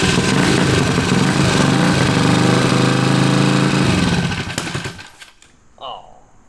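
A 40HP engine on a 130-pound mini bike roars loudly and then cuts out, leaving a brief quieter stretch.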